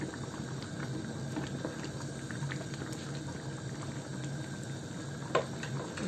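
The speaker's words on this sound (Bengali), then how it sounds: "এখন ভালোভাবে ফুটে গিয়েছে" Chinese biryani with ghee bubbles steadily in a pot, a continuous close, low simmering burble with faint pops, heard alone.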